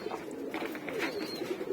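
Pigeons in a breeding loft give soft, low cooing over a steady muffled background hum, with faint bird chirps mixed in at a distance.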